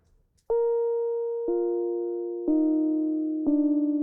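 Four chords on a Prophet synthesizer start roughly a second apart and each holds steady and sustained, clean and dry with no echo or reverb tail, a soft electric-piano tone.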